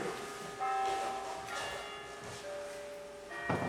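Bells ring in the evening, heard as sustained tonal strikes with lingering overtones that overlap and decay, recurring a few times over a steady outdoor background hum.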